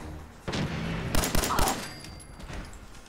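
Laser musket shots ring out in Fallout 4 gameplay, a handful of sharp, loud blasts clustered closely together and fading into a lingering tail.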